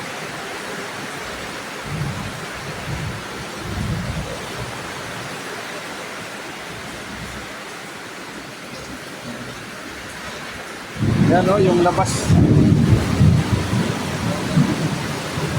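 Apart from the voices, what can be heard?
heavy rain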